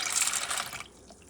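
Water runs steadily over grains being put to soak for Laba congee, a bright rushing splash that stops after about a second, leaving a faint trickle in a quiet kitchen.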